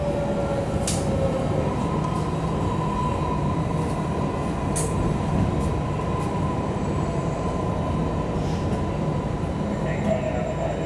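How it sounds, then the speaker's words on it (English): Riding a MARTA Red Line subway train northbound from the airport toward North Springs in Atlanta: steady rumbling rail noise with occasional wheel squeals and brief high clicks, while an automated announcement voice speaks over it. "This train is bound for North Spring Station."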